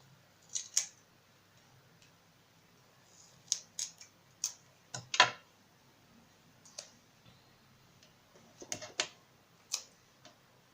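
Scissors cutting foam craft paper for a Christmas card, sparse crisp snips and clicks in small clusters, close and quiet against a near-silent background.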